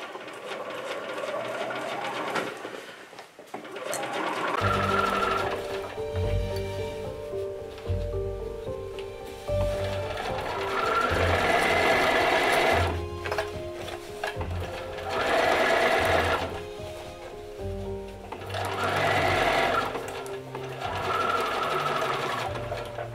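Sewing machine stitching a seam on bell-bottom jeans, running steadily and loud in several long surging stretches with brief slowdowns, close up.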